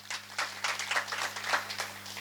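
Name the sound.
audience applause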